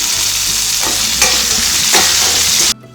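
Curry leaves, crushed garlic and green chili sauté in hot oil for raw banana poriyal, a loud close sizzle with a couple of stirring scrapes before it cuts off abruptly.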